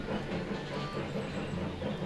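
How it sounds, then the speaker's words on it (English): A train runs in Railroad Tycoon 3, giving a low, steady rumble with a faint rhythmic clatter of wheels, moderately quiet and continuous with no voices. "let's unpause and watch our little train do its trainy-winy thing"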